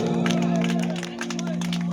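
A village audience gives loud clapping and cheering at an evening music night, with a sustained musical tone and crowd chatter running under the applause.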